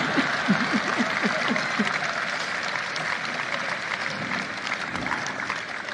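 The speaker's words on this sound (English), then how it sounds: "That's an applause line." An audience at a political speech applauds, steady dense clapping with a few whoops and chuckles, while a voice speaks faintly underneath at the start.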